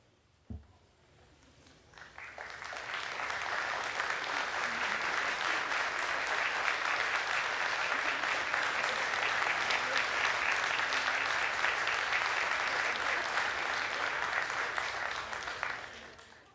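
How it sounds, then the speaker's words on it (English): Marine Institute graduates at their 2019 graduation ceremony applaud their families and supporters: clapping swells in after a brief pause and holds as a broad, sustained crowd ovation before tapering off at the end. "offer them a round of applause in appreciation of their support"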